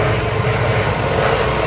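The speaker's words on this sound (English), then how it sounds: "getting a little of that Lycoming engine, pumping out that 120 horsepower, smoke still on" A 120-horsepower Lycoming piston engine drives an aerobatic propeller plane trailing smoke during an air show routine, producing a loud, steady, continuous droning roar throughout.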